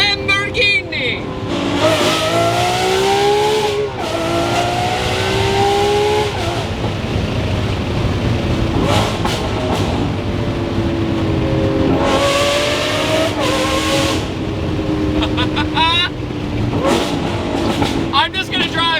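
A straight-piped Lamborghini SVJ roars loudly while being driven, its engine climbing through repeated revving pulls and gear changes with brief lifts between them, and a voice talks over it at times.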